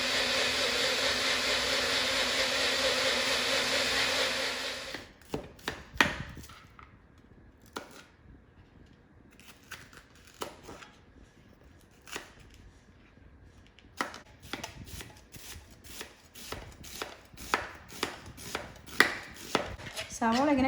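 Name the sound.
thinly slicing onions lengthwise with a knife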